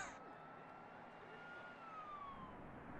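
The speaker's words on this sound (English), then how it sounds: "Did I just hear an ambulance in the game?" A faint ambulance siren inside The Sims 4, a distant wailing tone sweeping slowly down over a soft game background.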